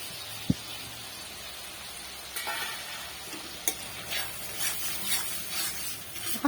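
Spice paste for potol chingri curry hits hot oil and fries with a soft, steady sizzle, broken by a few sharp clinks and louder bursts of stirring near the close.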